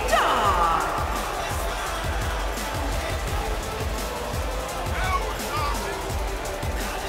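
Arena crowd noise from a WWE 2K19 wrestling match, a steady roar of cheering and babble with occasional whoops, continuous throughout under an announcer's voice.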